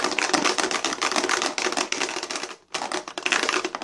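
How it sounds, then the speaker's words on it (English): Marbles rolling around inside a closed case, a dense, loud rattling clatter of many hard rapid clicks that continues steadily with one brief pause. "you're going to close your case, and you're just going to roll these marbles all around"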